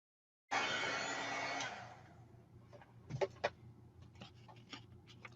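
A heat tool starts abruptly and blows a loud, steady stream of hot air over a stamped card for about a second, then drops away, leaving soft clicks and light handling taps.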